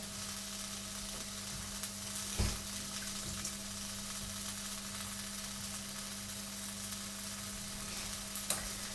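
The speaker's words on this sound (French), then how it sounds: "je vais la mettre directement dans la poêle avec les champignons et puis l'ail et l'oignon" Chickpeas hitting a pan with mushrooms, garlic and onion produce a soft, steady sizzle with occasional stirring clinks and a couple of sharper knocks, fairly quiet against a constant low hum.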